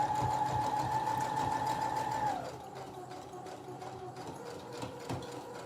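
A sewing machine stitches a seam on a fabric draft excluder, a fast steady whirring hum that slows and drops in pitch partway through, then continues more quietly with light mechanical ticking.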